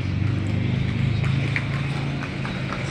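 Horse hooves clip-clop in a steady walking rhythm as a kalesa carriage is pulled along the streets of Vigan, close and clear over a low rumbling background.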